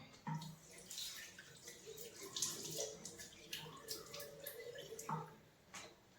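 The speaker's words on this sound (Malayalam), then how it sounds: "മുഖം കഴുകാം." Someone washing their face at a basin makes faint, intermittent splashes and drips of water, with small sloshing bursts spread across several seconds.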